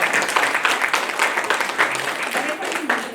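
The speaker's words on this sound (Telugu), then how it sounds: "మేడం గట్టిగా చప్పట్లు కొట్టొచ్చు మీరు" Audience clapping at a Ugadi women's awards ceremony held by a foundation, a dense steady applause filling the room for a few seconds with voices mixed in.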